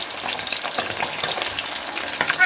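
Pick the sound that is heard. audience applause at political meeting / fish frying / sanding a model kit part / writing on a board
fish frying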